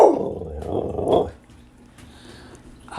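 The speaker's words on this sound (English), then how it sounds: "Oh, you getting that growl in you now." A dog growls low and close for about a second and a half, a rough rumbling snarl that trails off into near quiet.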